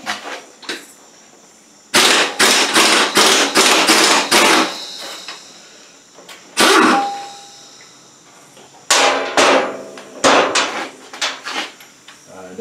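Air impact wrench zipping a nut off a Yamaha TTR 125 dirt bike in a shed, several loud, close rattling bursts separated by pauses.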